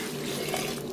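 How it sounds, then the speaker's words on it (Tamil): Water splashes steadily into a cooking pot of lentils, a brief, continuous pouring rush with no voices. "தண்ணி சேர்த்துருவோம்"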